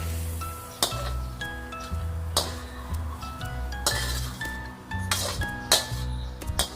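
Frozen meat thawed in a pan with a little water being scooped out once the water has cooked off, giving repeated metallic clinks and scrapes of a utensil against the pan at an irregular pace, close up.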